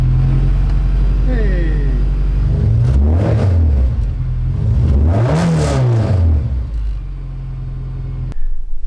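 A Scion FR-S engine turns over and catches, then revs up and down twice in strong swells before settling to a steady idle, loud and close, with a brief voice near the start.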